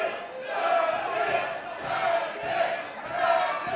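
A wrestling crowd at a Jake Something vs Mance Warner AAW Heavyweight Championship match chants loudly in rising and falling waves, with rival sections of fans calling back and forth in a steady rhythm.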